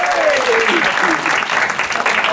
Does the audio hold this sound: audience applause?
yes